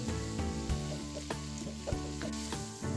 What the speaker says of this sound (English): Oh, garlic, hit the steak.